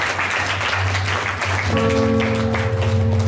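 A church congregation claps loudly during a Hindi sermon, steady dense applause filling the room, with a sustained musical tone from an instrument joining partway through.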